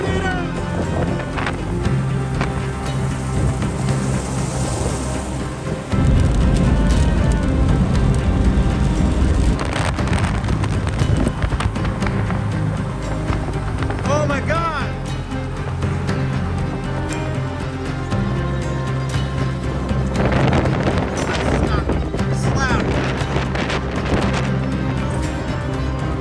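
Strong wind roaring during a tornado chase beneath a funnel cloud, a loud, steady broadband rush that fills the whole stretch with gusty surges, likely heard from a vehicle.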